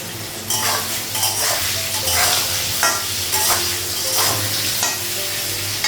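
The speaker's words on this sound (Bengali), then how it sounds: "পটলটা ভাজা হয়ে গেছে" Pointed gourd frying in oil with a loud, continuous sizzle, punctuated by repeated scrapes and clinks of a spatula stirring in the pan.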